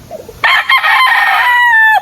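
A rooster among a flock of imported chickens crows once, loud and close, a long drawn-out call that holds steady and then cuts off, with a few faint clucks just before it.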